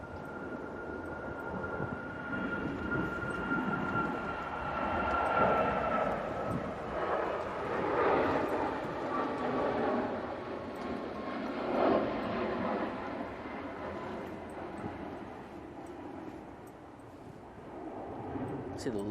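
A SunExpress airliner departs Manchester Airport for Dalaman in stormy, windy weather. Its engines make a broad, sustained roar with a faint whine. The sound swells and fades over the whole stretch, heard from a distance, and a voice talks intermittently over it.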